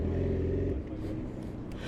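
Yamaha R6 sport bike fitted with Voodoo headers, a mid pipe with the catalytic converter removed, and a Leo Vince slip-on exhaust, idling and revving loudly nearby with a deep steady rumble, the note dropping after a strong opening burst.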